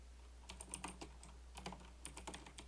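Fingers tapping out Python code on a computer keyboard in short, quiet bursts of clicking keystrokes over a faint low hum.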